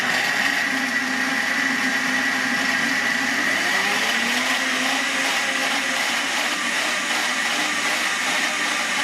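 A Hauswirt 1200W blender with eight blades runs flat out at maximum speed, a loud, continuous high whirring roar that holds steady from start to finish.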